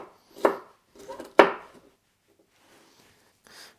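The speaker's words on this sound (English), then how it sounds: "the rest I'll just cut into cubes for things like my stir fry" A knife chops bell peppers into cubes on a cutting board, giving a few sharp, separate thuds followed by softer scraping.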